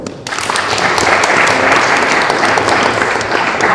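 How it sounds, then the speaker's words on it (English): An audience at a music industry panel session applauds the panelists, a sustained, loud wash of many hands clapping that swells in quickly and stays full to the end. "Please give him a round of applause."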